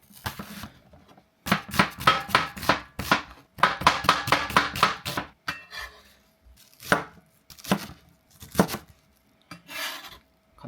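A kitchen knife chops half an onion on a cutting board for homemade jjajangmyeon, making quick, crisp, rhythmic cuts in uneven bursts with short pauses between them and no voices.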